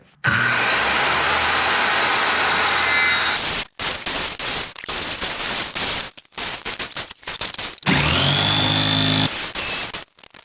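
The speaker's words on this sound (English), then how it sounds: "I made my pattern, and I'm gonna be cutting it out." Power saw cutting a plywood floor pattern for a 1991 Bayliner boat: loud continuous whining cuts in two main runs, broken by brief pauses and short bursts in between.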